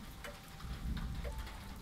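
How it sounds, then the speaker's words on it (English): Steady rain patters in a Paris-style café scene, a continuous soft wash of drops with faint ticking mixed in and no voices. "Rain on one side, I can hear it on the right."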